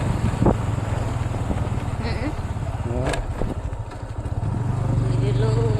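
A motorcycle is ridden up a hill road near Ranapur, Nayagarh, its steady engine drone running close by beneath people talking.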